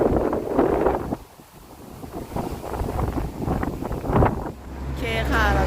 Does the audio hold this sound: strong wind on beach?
yes